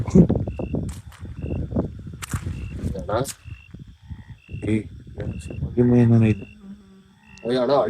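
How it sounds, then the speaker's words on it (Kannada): A frog calls at night in a forest, its croaks coming in short repeated bursts over a steady insect drone, with a voice murmuring at moments. "ಕಪ್ಪೆ ಸೌಂಡ್ಗೂ ಭಯ ಬೀಳ್ತಾ ಇದ್ದೀನಿ ನಾನು ಇವತ್ತು."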